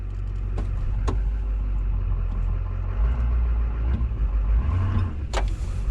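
A 2004 LB7 Duramax 3500 dually pickup driving, its diesel engine a steady loud rumble from inside the cab throughout, with a few faint clicks and rattles on top.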